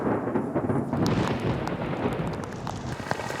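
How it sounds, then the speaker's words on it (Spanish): Heavy rain pours steadily during a thunderstorm, with low rumbling of thunder and gusts of wind buffeting the microphone, loud and continuous throughout. "Afuera, la tempestad ha continuado formándose y empieza a descargar."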